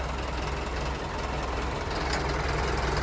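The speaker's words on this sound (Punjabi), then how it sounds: "ਆਪਾਂ ਪਹਿਲੇ ਤੇ ਚਲਾਵਾਂਗੇ ਪਹਿਲੇ ਆ ਚੈੱਕ ਕਰੋ ਮਤਲਬ ਤੋਰਾ ਟਰੈਕਟਰ ਦਾ" A 5911 tractor engine running in first gear at low speed, a steady close diesel drone with no break and no voices.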